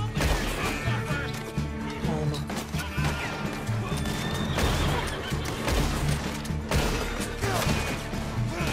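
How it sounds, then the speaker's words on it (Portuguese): Rapid volleys of gunfire crackle in dense, repeated bursts over busy game noise in Red Dead Redemption 2 Online at Fort Brennand, with a voice talking intermittently underneath. "Saraivada de tiro."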